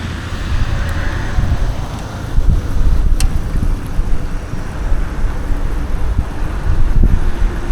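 Steady wind buffets the microphone while riding a Lectric XP electric trike outdoors, a continuous low rumbling roar with gusts swelling every few seconds and no speech.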